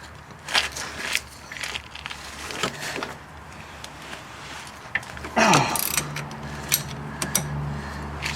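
Ratchet and pry bar working loose a stubborn outer tie rod end on a 1999 Pontiac Grand Prix: scattered metallic clicks and creaks, then a sharp squealing crack as the joint breaks free, close by with no talk.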